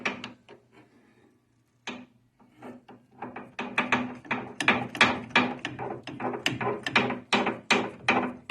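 Ratchet socket wrench clicking on the frame of a 1953 Chevy 210 convertible, close and loud, a few hesitant clicks and then a fast, steady run of ratcheting strokes.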